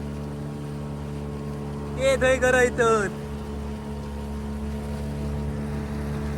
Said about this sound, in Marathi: हे बघ आमच्या होडी येत आहे